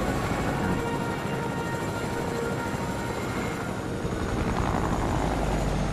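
A helicopter in the video game Fortnite flies with a steady, loud whirring rotor drone that continues without a break and is heard alone.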